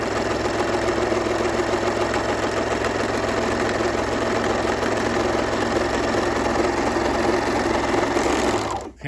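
A serger machine running continuously as it stitches down fabric edges, a loud, fast, even mechanical whir with rapid needle rhythm close by, stopping abruptly right at the end.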